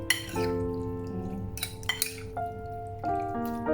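Squid marinating for adobong pusit sa kamatis is stirred in a bowl, with close metallic clinks and ringing tones from utensils striking the bowl, several strikes over a few seconds and no talking.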